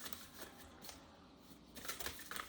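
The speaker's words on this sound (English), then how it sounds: "I just want to shuffle it really quick to get the card that's meant to be" Quiet shuffling of a tarot deck, soft papery riffles and slides of the cards in several short bursts, close to the microphone and faint, with no talking.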